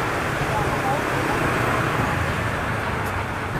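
Busy city street traffic in Vietnam forms a constant, dense roar of engines and road noise, steady and moderately loud throughout with no single vehicle standing out.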